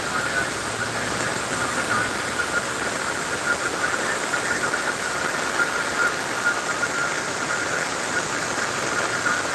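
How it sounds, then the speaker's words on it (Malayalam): Heavy rain pours down in a dense, unbroken hiss that stays loud and even for the whole stretch, with no voices over it. "മഴ വീണ്ടും ശക്തമായി പെയ്തു തുടങ്ങി"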